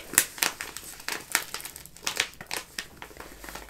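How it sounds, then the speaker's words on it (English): Crinkly packet noises, the plastic wrapping of a cheese-making kit being scrunched and handled up close in a series of quick crackling bursts, no voices. "Lots of lovely crinkly noises."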